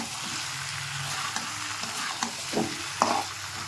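Jackfruit and prawn curry frying in a pan with oil separating, a steady close sizzle running throughout, broken by a few spoon scrapes and clinks near the end.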